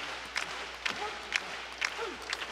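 An Osaka pro wrestling crowd claps in a steady rhythm, roughly two claps a second, as Kaito Kiyomiya climbs the top rope; a commentator's voice runs underneath.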